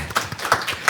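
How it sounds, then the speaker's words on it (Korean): A church congregation applauds a newly registered member, a short burst of several sharp, uneven hand claps ringing through the sanctuary. "큰 박수로 환영해 주시기 바랍니다"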